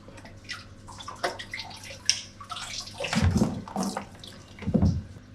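Water sloshes and gurgles as a half-full aquarium protein skimmer is lifted out of a large reef tank, with two heavier splashy surges near the end, fairly close and no talking.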